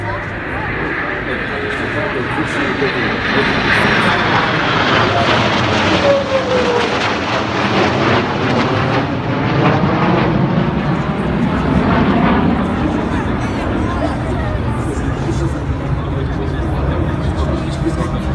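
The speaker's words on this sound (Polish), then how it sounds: "szereg czterech samolotów F-22" Four F-22 fighter jets flying over in Poland, a loud sustained roaring jet sweep that swells and shifts in pitch as they pass, with crowd chatter underneath.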